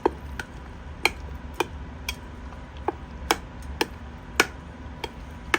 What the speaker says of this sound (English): now I'm gonna come in with my spoon and give this a good mix